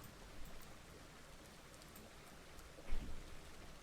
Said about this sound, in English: is it just because it's raining?